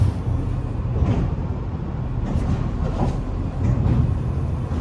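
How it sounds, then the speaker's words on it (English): A garbage truck rumbles past outdoors, a loud, steady low engine roar with mechanical clanks and a brief hiss of air brakes, filling the whole stretch without any talking. "The garbage truck."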